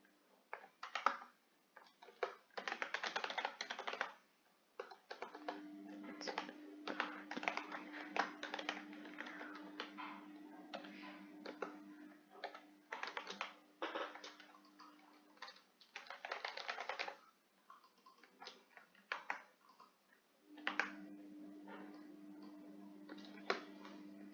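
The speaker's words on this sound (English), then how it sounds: "I'm just gonna type this real fast." Quick, light clicking of fingers typing fast on a computer keyboard, heard close and in uneven bursts with brief pauses, over a faint steady hum.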